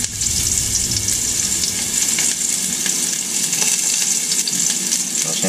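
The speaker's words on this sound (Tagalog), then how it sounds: "nakapagpainit na tayo ng cooking pan natin at saka oil natin. Kaya pwede na natin lagi itong onion." Onion frying in hot oil in a preheated cooking pan, a steady close sizzle that holds loud and dense throughout, with no talking over it.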